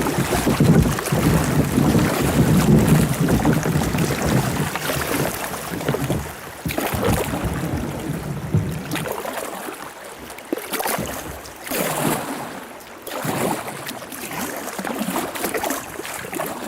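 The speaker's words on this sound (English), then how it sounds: "Oh, we got some rapids." A kayak runs through rapids on Tionesta Creek, with loud, continuous rushing water and wind buffeting the microphone, steady throughout with small surges and no talk.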